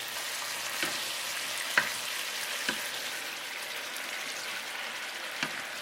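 Chicken pieces and Chinese mushrooms stir-fry over high heat in a pan, giving a soft continuous sizzle with occasional clicks of a utensil against the pan.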